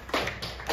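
A few quick rhythmic hand claps of the Indonesian "tepuk wow" clap, three soft, close bursts in under a second.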